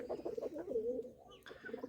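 Soft, low pigeon cooing close by, a few rolling coos in a row, followed by a brief faint rustle.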